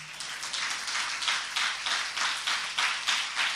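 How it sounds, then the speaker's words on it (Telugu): A church congregation claps hands together in a steady, rhythmic beat, a dense burst of many palms sounding alone for a few seconds. "చప్పట్లు కొట్టండి ఒకసారి"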